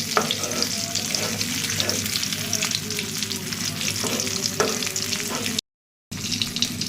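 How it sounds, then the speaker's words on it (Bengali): Hilsa fish fry in hot oil along with dried chillies, giving a steady close-up sizzle and crackle with occasional stirring scrapes, continuous apart from a brief cut to silence. "তো এখানে ইলিশ মাছ ভাজতেছি,"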